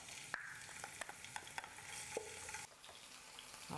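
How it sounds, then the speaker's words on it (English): Chopped pepper and mashed garlic fry in very hot oil, a steady crackling sizzle punctuated by frequent sharp stirring taps of a utensil against the pan, quite close. "First, let's put in the chopped pepper and mashed garlic."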